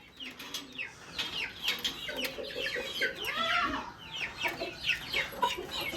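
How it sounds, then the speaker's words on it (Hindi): A rooster and chickens cluck softly and repeatedly nearby, a chorus of short clucks and chirps that rises and falls over steady background quiet. "तो एक ये मेरा मुर्गा है"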